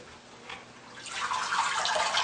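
Hands swish and stir chopped cabbage for kimchi in a salad spinner bowl filled with water, a soft watery churning that starts faint, then swells into continuous close splashing.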